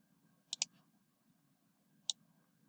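Two quick clicks in a row, then a single click about 1.5 seconds later, from a computer mouse or keyboard key, faint and close over a low, steady room hum.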